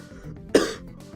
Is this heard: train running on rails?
no